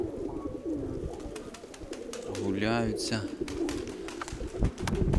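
Pigeons from an opened loft coo softly close by on a near-freezing day, a low rolling coo rising above background noise, with someone speaking briefly in Ukrainian.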